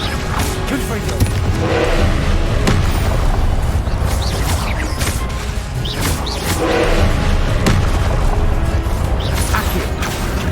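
Confringo blasting spells go off in Hogwarts Legacy as loud, dense bursts of crashing game noise over a constant roar, with a voice speaking over it.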